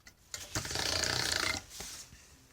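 A hand-cranked pasta machine on setting 3 whirs and grinds for about a second as polymer clay is rolled through, with quieter mechanical clicks before and after.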